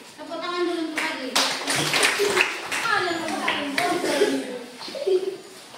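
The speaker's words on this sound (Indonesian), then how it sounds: "Tepuk tangan dulu untuk Fadli." A classroom of students claps for a classmate named Fadli, with quick, uneven hand claps at close range mixed in with children's voices and a teacher talking over them.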